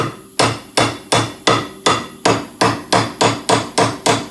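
Repeated hammer blows strike a car ball joint on a Lincoln Mark VIII to knock it loose, about a dozen sharp metallic hits in a steady rhythm, close and loud with no talk.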